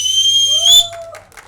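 A man whistles at a film trailer launch event, a single loud, sustained whistle that rises and falls in pitch for about a second before fading, followed by faint crowd noise.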